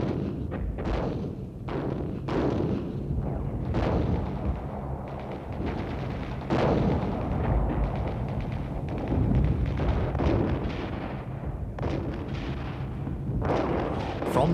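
Israeli artillery shells Syrian strongpoints in 1967 Six-Day War footage. Dense, rumbling booms and repeated heavy thuds roll on continuously for the whole stretch, with no speech.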